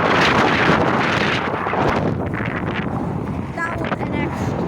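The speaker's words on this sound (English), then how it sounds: "That was an extreme gust." A strong gust of wind roars and buffets straight into the microphone while plane spotting at Dublin airport, loud and rumbling throughout, easing slightly partway and then picking up again.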